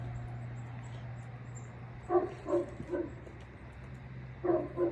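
A dog outdoors gives a few soft, muffled barks and yips in two short bursts, fairly distant, over a low steady hum.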